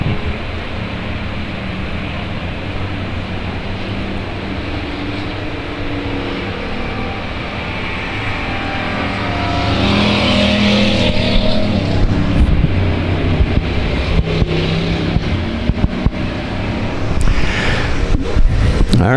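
Race cars circle South Texas Speedway, engines droning at a distance before a louder pack sweeps nearer around the halfway point, roaring and whining through the turns with sharp crackles.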